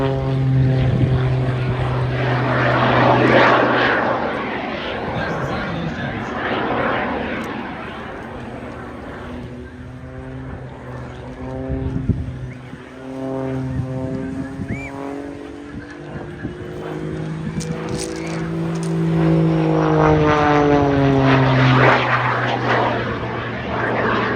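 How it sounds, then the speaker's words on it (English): Jet aircraft flying at the Bray air show in Ireland, a loud sustained engine roar that swells and recedes with shifting, sweeping tones as the planes pass overhead. "That's the sound of those jets."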